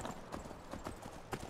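Shadowmere, the horse in Skyrim, clops along with a quick, even run of hoof steps, close and moderately loud with no talking over them.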